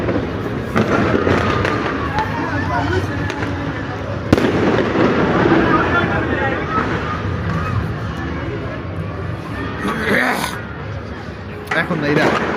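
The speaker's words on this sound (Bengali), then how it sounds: "আতশবাজি ফুটে" Fireworks bursting on New Year's Eve, a series of crackling pops and sharp bangs at varying distances, with people talking and a crowd murmuring throughout.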